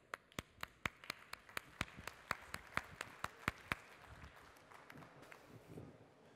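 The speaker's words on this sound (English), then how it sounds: "give me a round of applause" At a conference session on the future of identity, faint, evenly spaced claps ring out in a steady beat from a small audience, then thin out into a softer, scattered patter.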